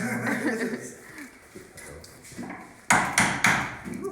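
A small toy Thor hammer, bought on eBay, taps in a few quick sharp knocks near the end, close by, following a stretch of murmured voices and light laughter in a shop-like room.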